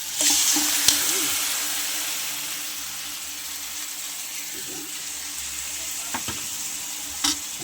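Chicken for sinampalukang manok sizzles in a hot pan, a steady hissing fry with a few faint clinks and scrapes scattered through it.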